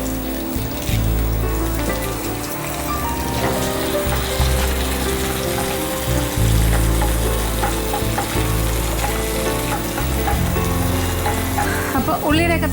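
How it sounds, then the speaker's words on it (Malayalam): Small shallots and curry leaves fry in a spoonful of hot coconut oil with a dense, continuous sizzle and crackle, loud and close throughout, with no one speaking. "അതിലേക്ക് കൊച്ചുള്ളി, കടുകൊന്നും വേണ്ട, നമ്മളത് ചെറിയ ഉള്ളി, അതിൻ്റെ കൂടെ കറിവേപ്പില,"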